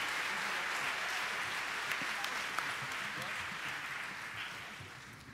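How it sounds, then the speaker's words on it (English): An audience applauds a high school music group from Tarpon Springs High School, a soft, distant wash of clapping that slowly tapers off. "Let's have one more round of applause for this outstanding group of musicians"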